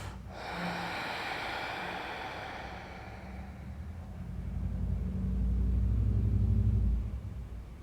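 Slow, deep breathing during a yoga class, with a long airy exhale followed by a fuller, louder breath close to the microphone and no talking.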